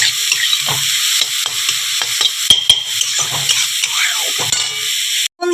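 Cauliflower pieces fry in a pan for paratha, with a close, bright sizzle broken by repeated scraping and stirring strokes of a spatula against the metal.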